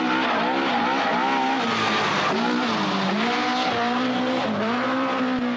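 A Ford Escort RS 1800 Mark II rally car with an 1845 cc engine making 280 horsepower to the rear wheels screams at high revs, loud and continuous, pitch rising and dipping with gear changes and throttle lifts.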